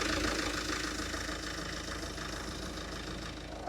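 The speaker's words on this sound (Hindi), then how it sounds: "आप इसके इंजन की साउंड सुन सकते हो," A Mahindra Scorpio Classic's roughly 2200cc diesel engine idles steadily, a close, even low rumble with a faint knocking texture and no talking.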